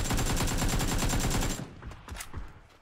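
Rapid full-auto gunfire from a first-person shooter during aim training, a loud continuous burst of evenly spaced shots that stops abruptly, followed by a few scattered softer clicks and thuds.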